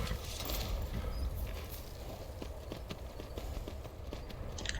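Horse hooves pound at a gallop in Skyrim, a steady rapid clip-clop under a dense, noisy game soundscape, moderately loud throughout.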